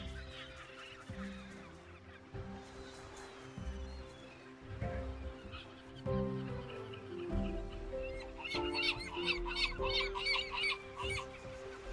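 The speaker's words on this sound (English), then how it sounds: "Their massive colonies are home to thousands of nesting birds." A dense nesting colony of thousands of seabirds calls at once, a continuous honking, clucking din of overlapping voices that grows busier and louder toward the end.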